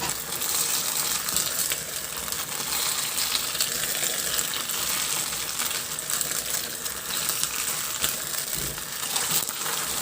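Fried pork is stirred into a thickening sweet and sour sauce in a pan, giving a steady soft sizzle with scattered scraping and clinking taps from the utensil, close and continuous, with no talk.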